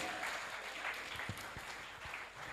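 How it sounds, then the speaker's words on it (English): Standing ovation from students at a secondary school workshop, a sustained crowd of clapping hands, steady and fairly loud, with a few louder individual claps standing out. "Keep clapping till he comes."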